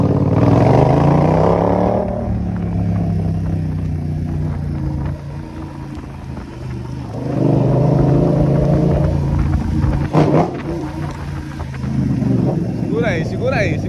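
A BMW car engine rumbles steadily as it rolls through a favela, with a low, close drone that swells and eases and a brief rise near the end; voices seem to come and go over it.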